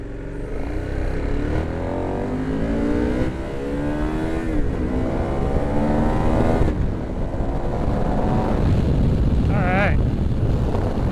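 A 2018 KTM 1090 Adventure R motorcycle accelerates hard in sport mode, its engine note climbing through the gears in rising sweeps under steady wind rush, with a brief voice near the end.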